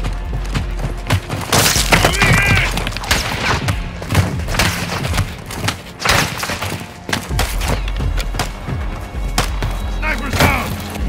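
A Call of Duty Modern Warfare 2 firefight near the US-Mexico border, with dense, loud gunfire, cracking rifle shots and heavy thuds in rapid, irregular bursts that run on without a break, plus brief radio-style voices mixed in.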